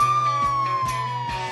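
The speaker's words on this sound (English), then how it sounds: "The sirens continued and he ran off." A wailing emergency siren, steady and close, with a falling sustained tone and stacked harmonics under a low engine-like drone, pulsing briefly about every 0.4 seconds.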